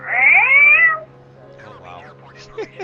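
A person imitates a cat's meow over aviation radio, one drawn-out, loud meow lasting about a second, followed by faint radio chatter in the background.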